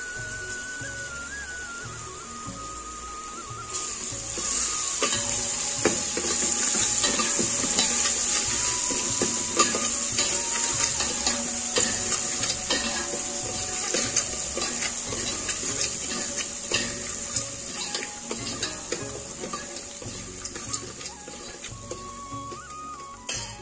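Onions and ginger-garlic paste fry in a pan with a constant, close hiss and sizzle that swells after the first few seconds, with occasional light scrapes of a stirring spoon.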